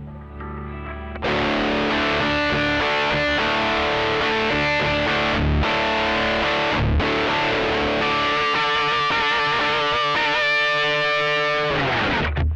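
Heavily distorted metal electric guitar through a DigiTech Death Metal effects pedal, loud and saturated, played as sustained chords with brief gaps and a faster riffing passage near the end, with no voices.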